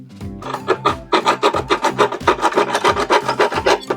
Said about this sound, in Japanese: なんかこんな感じのちっちゃいノコギリで。 やったら切れそうなんで、ちょっと一箇所だけ切ってみますね